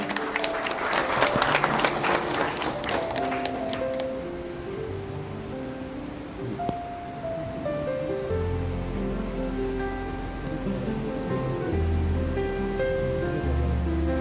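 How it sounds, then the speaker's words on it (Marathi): Loud, dense applause from an audience at a Gawali community family get-together in Tala taluka, during a lamp-lighting ceremony, fills the first few seconds, then thins out as steady music carries on. "नक्कीच एकदा जोरदार टाळ्या मात्र व्हायला पाहिजे."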